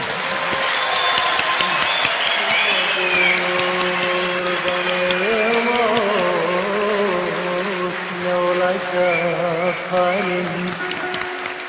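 A televised music honor award ceremony crowd applauds a Turkish folk poet and bozlak master, dense continuous clapping filling the hall while tonal music plays beneath it throughout.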